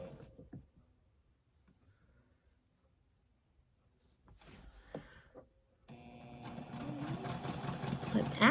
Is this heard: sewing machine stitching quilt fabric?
yes